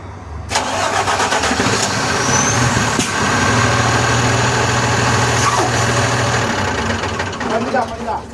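A Volkswagen Constellation 19320 truck with an engine noise fault cranks and catches, then idles loudly and steadily for several seconds at close range, with a brief higher clatter partway through.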